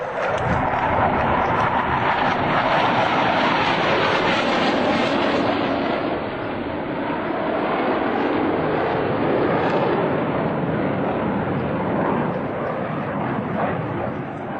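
US Navy Blue Angels jets flying at the 2003 Dayton airshow: a loud, continuous roaring jet rumble that sweeps past and fades slightly, steady over many seconds with no talk.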